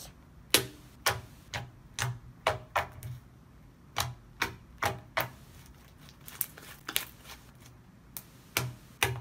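Slime being squeezed to make sharp clicking pops, a rapid series of roughly twenty distinct close clicks in an uneven rhythm, each crisp and bright, with no talking.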